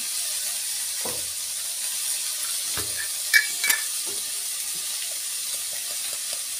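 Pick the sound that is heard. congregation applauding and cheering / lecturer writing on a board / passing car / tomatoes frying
tomatoes frying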